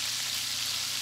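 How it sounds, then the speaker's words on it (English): Onions and peppers sauteing in a pan for smothered catfish, giving a steady broadband sizzle that holds evenly through the short clip with no talk over it. "we're going in with all those onions and peppers and we're going to saute them down"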